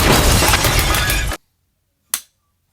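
Clipboard clip snaps shut with a single sharp, close click, after a loud burst of harsh noise that cuts off abruptly, leaving near silence before the click.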